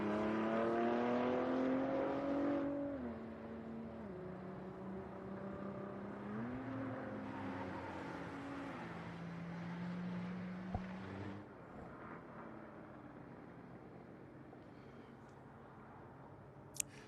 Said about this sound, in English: I want you to hear these cars as much as possible.